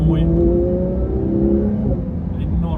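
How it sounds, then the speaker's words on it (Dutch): A Porsche 911 GT3 (992) boxer engine revs up and holds a loud, throaty rising note, with tonal harmonics sweeping as the revs climb, close and dominant. "Een Porsche boxermotor heeft gewoon een enorm"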